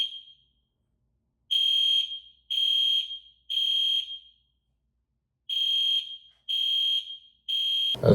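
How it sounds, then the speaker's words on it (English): A fire alarm sounds in repeated loud, piercing electronic beeps of about half a second each, in two groups of three separated by a short gap, with a sudden noise right at the end. "I just got back in from being out from that fire alarm."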